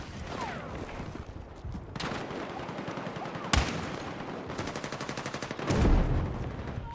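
Gunfire in the Battlefield video game: rapid automatic bursts and repeated shots, one sharp louder blast midway and a heavier explosion near the end, with a little faint background talk.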